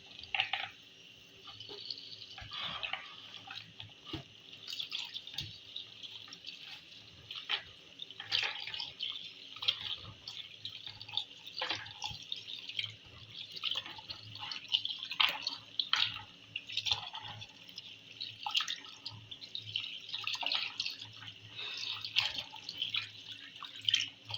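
Beans washed in water for porridge, with close splashing, dripping and swishing in a bowl, irregular and moderately loud, continuing throughout with a low background hum.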